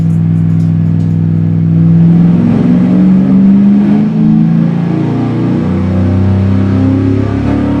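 A carbureted V8 on an engine dyno during a pull, a loud, continuous, close roar that climbs steadily in pitch and holds at high revs before dropping near the end.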